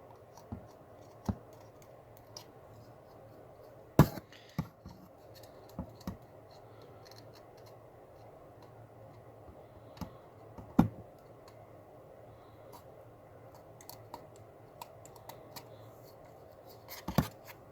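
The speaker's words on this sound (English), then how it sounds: "I'm just going to use my blade here just to trim the excess paper." A craft blade trims excess paper around a wooden tenon ring, making faint, scattered scratchy clicks and sharp little snaps at irregular intervals over quiet background, with no talk.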